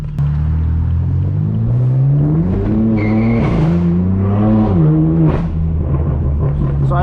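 A BMW M4 with a track exhaust revs and accelerates, its deep rumbling engine note climbing and falling through several pulls, loud and close from inside the car, with a voice briefly heard over it.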